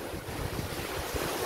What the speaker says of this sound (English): Oh man, we got some waves.